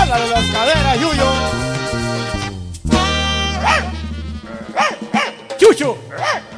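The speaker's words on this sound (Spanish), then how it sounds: "ya baña el perro, está pulguiendo ese animal" A dog lets out several short yips and barks in quick succession toward the end, over a band playing corrido music.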